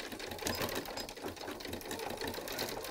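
A sewing machine runs a straight stitch on quilting fabric for a self-binding receiving blanket, giving a steady rapid mechanical whir and chatter throughout, moderately close and without talk.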